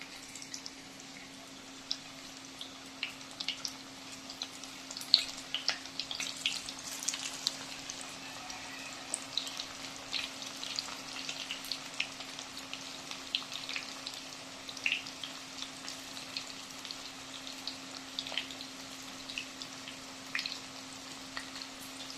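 Cauliflower pakoda pieces fry in hot oil, giving a soft, steady sizzle with scattered small pops and crackles that go on throughout, fairly quiet and close, with no voices.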